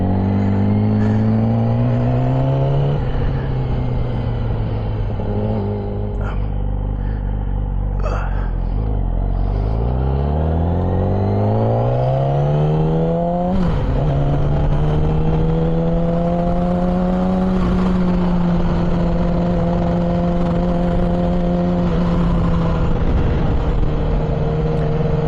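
A Yamaha R6 sport bike engine howls loudly while riding, its pitch climbing and dropping through several gear changes and rising revs, with a steady high whine throughout and no talking.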